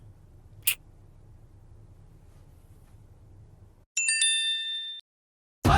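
A phone gives a bright, short message-notification ding that rings out clearly after several seconds of low room hum, then the sound abruptly cuts off.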